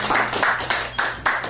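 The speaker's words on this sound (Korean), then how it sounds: "박수 한번 치겠습니다." A small audience at a speech and filming class claps hands in a few rhythmic bursts, fairly close and loud in a room.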